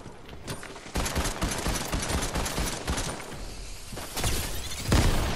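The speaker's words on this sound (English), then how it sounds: "Oh, he's throwing grenades at it." Rapid grenade explosions and bursts of gunfire in the Fortnite video game, a dense run of loud booms and crackling blasts with a heavier hit near the end.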